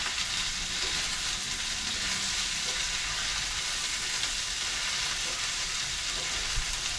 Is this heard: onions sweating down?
yes